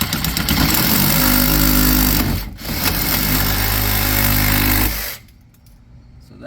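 Sawzall reciprocating saw cutting into a part on a Chevy Colorado on 33-inch tires, a loud, close, rapidly pulsing buzz that dips briefly midway, resumes, then stops, leaving quiet rustling.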